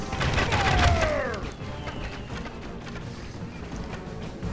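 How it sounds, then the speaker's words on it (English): Archers loose arrows in Rome Total War, a burst of twanging releases and whooshing volleys followed by scattered clattering impacts under a low battle ambience. "there's a close-up of the archers firing there"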